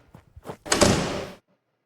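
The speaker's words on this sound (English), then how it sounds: "To the castle he knocked." Wooden castle door struck in a radio drama sound effect: a few soft, spaced knocks followed by a louder, longer broad door thud, close and alone.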